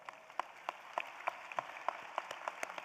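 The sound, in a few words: audience applause at nursing commencement ceremony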